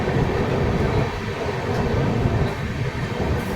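Jan Shatabdi Express pulling out of Balasore station on the Bhubaneswar to Howrah run, heard as a steady, loud, continuous rolling rumble of wheels and carriages with no voices.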